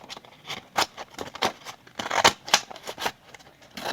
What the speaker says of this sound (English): Just cutting the excess off.